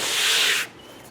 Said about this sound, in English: now that we're done sanding this